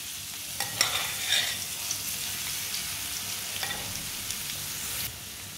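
About one and a half spoons of crushed garlic fries in oil or ghee in a pan, giving a steady, moderate sizzle with a few scraping stirs near the start and again midway.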